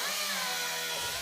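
A power tool cuts slots into the sheet-metal floor of a Gremlin, giving a steady, loud, continuous grinding whine that holds for about a second with no pauses.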